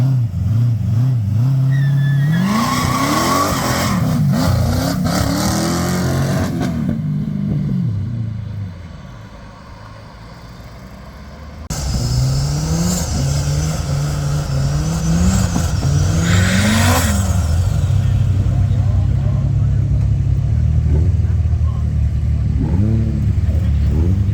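A race car at a drag racing event revs hard during its warm-up with loud, repeated rising engine bursts. A quieter lull in the middle gives way to more roaring revs close by.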